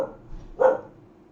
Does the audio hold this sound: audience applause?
no